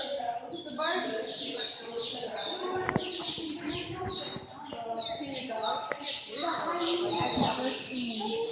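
Birds in a bird house chirp and coo continuously, a busy overlapping chorus of tweets and pigeon-like calls close by, with people talking now and then underneath.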